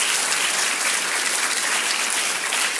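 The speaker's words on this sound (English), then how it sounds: "give them a little recognition, a round of applause" An audience at an awards ceremony breaks into a dense, even round of applause, many hands clapping at once at a steady level with no voices over it.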